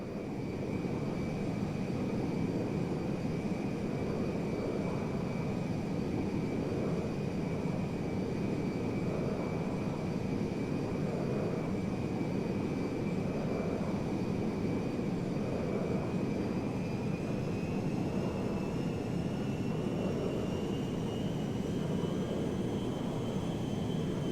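A cargo jet flying in Grand Theft Auto V gives a steady, sustained engine drone with a thin whine that climbs in pitch late on, continuous and unbroken.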